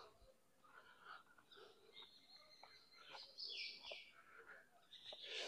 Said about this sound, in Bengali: শালিক পাখিগুলো বসে আছে।